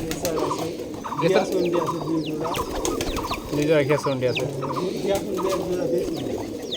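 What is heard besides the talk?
pigeons cooing, racer and giribaz pigeons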